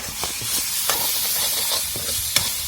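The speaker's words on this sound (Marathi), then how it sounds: "डाळ आणि मसाला एकदम परतून घ्यायचा आहे" Dal and masala sauté in a pan with oil, cumin and mustard seeds, making a continuous hissing sizzle with brief scraping stir strokes at irregular intervals.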